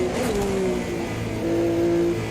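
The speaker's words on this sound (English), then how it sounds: "From Alfa Romeo, so slightly different engine sound." An Alfa Romeo race car engine in the Automobilista 2 racing game holds a steady, close, loud drone. Its pitch rises, settles, then climbs again under hard acceleration off the starting line, with no talk.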